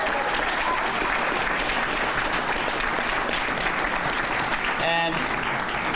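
A crowd at a political victory speech for a Democratic Senate primary win in Ohio applauds loudly and continuously, dense clapping and cheering filling the room.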